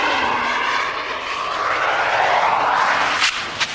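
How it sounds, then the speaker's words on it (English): A Bentley car's engine accelerates hard in a loud, steady roar that rises in pitch and keeps building, with no voices. "The Bentley accumulates speed relentlessly"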